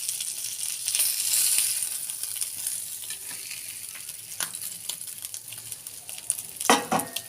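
Fish frying in a pan, a steady close hiss of hot oil with scattered crackles and a few sharp clinks of a utensil near the end.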